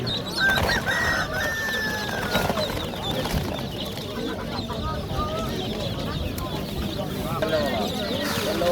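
Chickens and chicks at a busy weekly Jomashuy poultry market cluck and cheep up close, a dense peeping chorus mixed with people talking and bargaining nearby.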